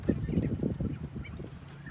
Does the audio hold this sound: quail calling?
yes